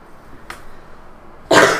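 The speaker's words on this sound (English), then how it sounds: "I have to cough." A person coughs: a faint short sound near the start, then a loud, close, harsh cough bursts out at the end, heard alone with no talking.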